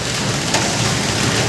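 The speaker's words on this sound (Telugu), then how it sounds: "మొత్తం వర్షం పడుతుంది." Heavy rain pours steadily in Goa, heard from a hotel balcony as a loud, dense, continuous hiss.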